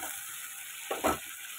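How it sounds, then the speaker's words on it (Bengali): Spice masala with salt and turmeric fries in a pan, a faint background sizzle with a couple of brief louder scraping stirs near the end. "এবার মশলাটা একটু ভালো মতো কষিয়ে নেব।"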